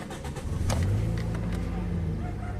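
The engine of a Toyota Vios, with the check engine light on, is restarted: brief cranking catches into a close, low idle that settles steadily, while a voice talks faintly in the background.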